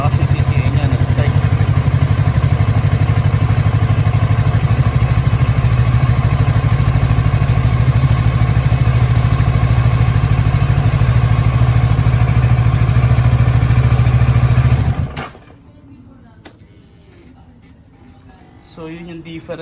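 A Kawasaki Ninja 650 motorcycle engine runs steadily and loudly at close range right after starting on a replaced battery, a constant rumbling drone that cuts off abruptly near the end, leaving quieter background noise.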